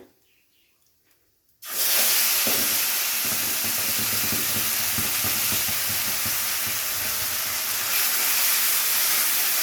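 Onion paste hits hot oil with cumin and asafoetida while a Bengali rui fish kalia is cooked, bursting into a loud, steady sizzle and hiss after a short silence. Faint stirring scrapes sound beneath it, with no voices.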